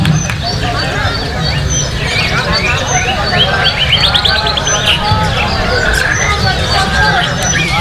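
Several white-rumped shamas sing and chirp in quick bursts at a songbird contest, over a busy background of crowd chatter and general noise, the song coming through clearly in places.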